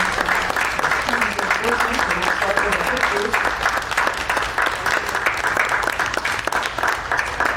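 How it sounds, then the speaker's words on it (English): A school board meeting audience applauds students and staff with steady, full clapping that continues evenly for several seconds, with faint voices murmuring beneath it. "Let us give all of our amazing students and staff a round of applause"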